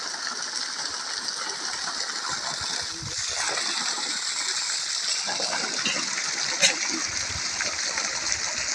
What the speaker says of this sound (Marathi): गव्हाला पाणी चालू आहे. आत्ताच उद्घाटन केले. पाणी चांगलं चाललं.